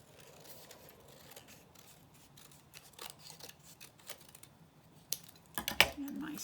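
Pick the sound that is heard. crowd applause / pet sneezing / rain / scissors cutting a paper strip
scissors cutting a paper strip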